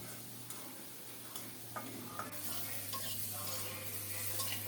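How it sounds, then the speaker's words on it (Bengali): Sliced onions frying in a pan of oil for a Bengali rohu fish curry, a steady low sizzle with a few light clicks of a spatula stirring, the hiss swelling a little toward the end. "পেঁয়াজটা কেমন হয়েছে দেখুন আরও একটু ভাজতে হবে"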